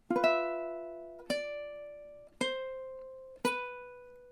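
Ukulele chords strummed four times in an even, slow rhythm, each bright chord ringing out and decaying before the next, close and clear with no talking.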